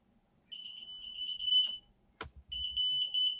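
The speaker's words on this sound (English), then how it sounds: "Whose alarm is that?" An electronic alarm beeps with a steady two-tone sound, broken briefly by a sharp knock before the beeping resumes. The alarm is fairly loud, with no talking over it.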